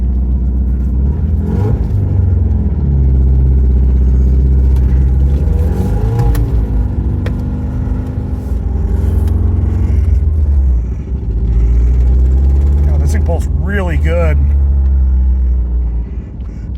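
Old car engine idling steadily on three-year-old gasoline with a slight misfire, a loud close rumble with a few brief revs and uneven wavering throughout.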